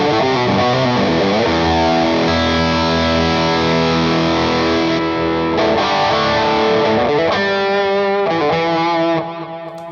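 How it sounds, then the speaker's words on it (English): Electric guitar played through a Colombo Audio Electronics overdrive pedal with distortion and every control turned fully up, chords ringing thick and saturated, loud and sustained throughout with a brief drop at the very end, no talking. "For me, it's a distortion, everything up."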